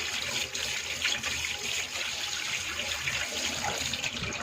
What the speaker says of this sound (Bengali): চলো মাছগুলো এখন আমি ধুয়ে নিই।